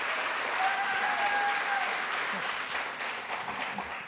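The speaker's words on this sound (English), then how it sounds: "I'm pausing for applause." An audience at a startup demo day applauds after a founder's pitch, dense steady clapping that tapers gradually, with a voice speaking briefly over it.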